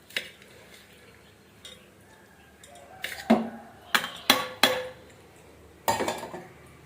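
A spoon clanks against a metal bowl while ground lentil batter is mixed with onion and coconut, scattered soft scraping followed by several sharp close clinks in an irregular rhythm.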